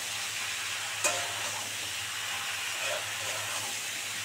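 Vegetables being stir-fried for chorchori in oil rendered from bhetki fish, giving a continuous close hiss and sizzle with one sharp utensil clink early on.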